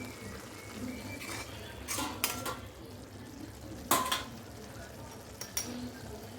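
Paneer curry with tomato, coriander and soaked cashews being stirred in a pot, a few spoon scrapes and clinks against metal standing out over a low steady simmer, with no voices.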